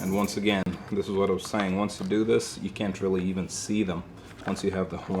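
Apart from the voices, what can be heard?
No everyday noise stands out behind the speech.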